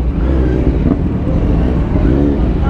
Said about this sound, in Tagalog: grabe traffic sa dito sa EDSA